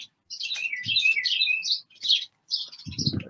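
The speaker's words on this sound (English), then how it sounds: "Those birds are going crazy back there" Several birds chirp busily nearby, trading rapid, high, warbling tweets in overlapping bursts with short pauses. A low voice murmurs briefly underneath near the end.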